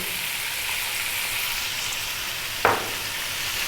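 Onion sizzles in a pan with lamb, a loud, even frying hiss throughout, broken once by a brief clatter as something is stirred or shifted partway through.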